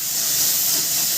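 Prawns with salt and turmeric fry in a pan, giving a steady, even hiss of hot oil up close, with no pauses and no voices.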